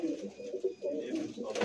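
A Ferozpuri slate pigeon coos in low, rolling, continuous murmurs close by, with no one speaking over it.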